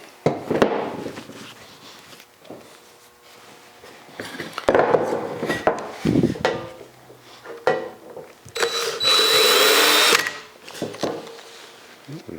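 A drill bit bores a hole into the body of a Plumb Crazy AWD Dodge Charger in short, uneven bursts among clunks and handling noises, ending in one longer, louder stretch of drilling.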